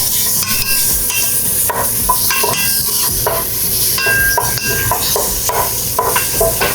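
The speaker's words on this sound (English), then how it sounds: "you get that sizzle that you hear, okay? And then you just stir vigorously to get the sausage all ground up" Loud, steady sizzling of sausage frying in a pan, with a utensil scraping and clacking as it is stirred vigorously to break it up, close up and continuous.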